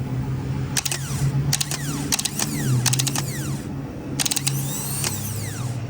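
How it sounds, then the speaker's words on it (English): A Kia Soul starter motor is powered on a bench. Its gear pushes out and spins in about five sharp, close bursts of ratcheting mechanical whir, each cutting off abruptly, with no speech. "You see how I put power into it, and it pushed the gear out, and then it spins."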